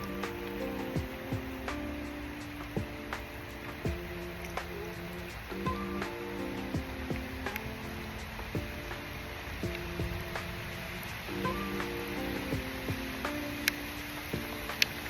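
Rain falling outdoors, a soft steady patter of drops with scattered sharper taps on nearby surfaces, faint and even throughout with no voices.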